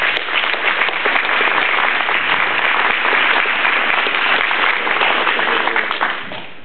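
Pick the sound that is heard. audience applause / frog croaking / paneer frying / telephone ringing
audience applause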